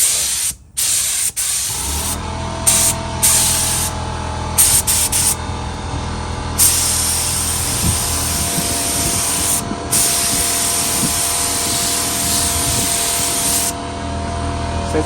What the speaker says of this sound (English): the air compressor is about to turn on, so it's going to be a little noisy